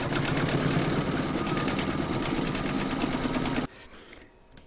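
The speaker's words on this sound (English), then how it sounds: "You're going to pop this into your machine and stitch round number 12" A machine embroidering an in-the-hoop dog pouch whirs in a steady, rapid stitching rhythm close by, then stops abruptly near the end, leaving only faint room noise.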